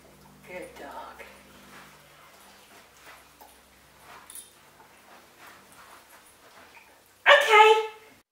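A dog in sit-pretty trick training gives faint whimpers and yips, then a short burst of barking near the end, with a person talking quietly between the sounds.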